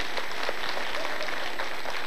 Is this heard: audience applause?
yes